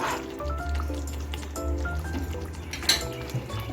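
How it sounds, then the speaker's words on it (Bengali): Ghee spooned into a simmering rezala of taro and spices in a pan, with soft liquid drips, gentle sizzling and light clinks of a spoon against the cookware, quiet and close. "এক টেবিল চামচ ঘি দিয়ে দিচ্ছি"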